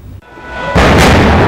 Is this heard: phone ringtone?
no